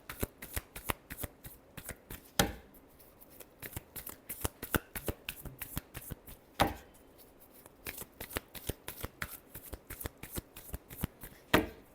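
Tarot cards being shuffled by hand during a Leo reading, a steady run of crisp, close riffling clicks with a few louder snaps of the deck, no voice.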